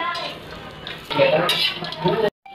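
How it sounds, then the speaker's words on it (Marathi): Grated coconut roasting on a tava while being stirred, steady soft sizzling with scraping and clinks of a spoon against the pan, close up and without talk. "तव्यावरती आपल्याला खोबरं छान भाजून घ्यायचं आहे"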